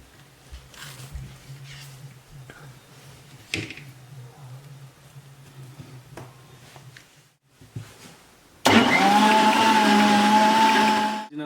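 A blender whirs loudly into action, blending pineapple and banana into a smoothie, starting abruptly after a stretch of quiet kitchen handling noises and running steadily to the end.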